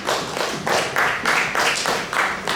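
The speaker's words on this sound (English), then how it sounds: "I think you all deserve a round of applause." An audience claps in bursts of dense, bright applause at a talk-show event, loud and close, swelling and easing in waves over a few seconds.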